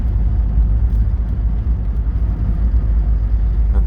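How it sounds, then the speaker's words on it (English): A 1983 Porsche 944 with a limited-slip differential lugging along in 4th gear at low RPM, a loud, steady low engine rumble heard from inside the car, with no voice. "We're cruising along currently in 4th gear, so we're lugging along at some low RPMs"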